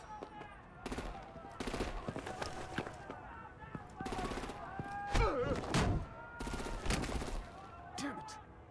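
Rapid automatic gunfire with artillery in the Batman: The Enemy Within game, heard as repeated dense volleys and bursts with booming impacts, loud and close, mixed with voices and other game sounds.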